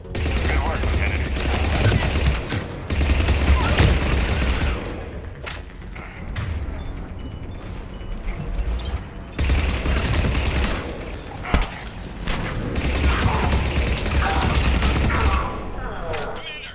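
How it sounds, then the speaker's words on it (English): Mortar blasts and sustained gunfire in a Mass Effect 3 battle against Cerberus forces, with heavy low booms and rapid bursts of shots rolling continuously, easing briefly before resuming loud and close. "Commander, we're getting a lot of mortar fire."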